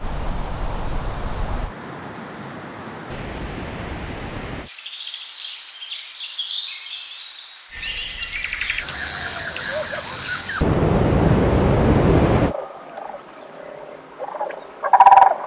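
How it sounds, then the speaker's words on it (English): A sequence of short outdoor ambiences changing every few seconds: rain-like hiss, croaking frogs, chirping insects and birds, some faint, some fuller. "I have 8 nature ambiences, and they're all a little bit different"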